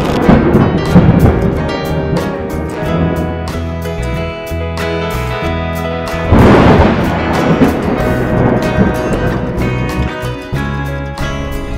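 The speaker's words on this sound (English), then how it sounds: "On our way back to the north, we get into heavy thunderstorms and hailstorms." Heavy thunderstorm with hail while driving on the road from Armenia, a steady loud roar of rain and hail with rumbling thunder swelling midway, close and continuous with no talk.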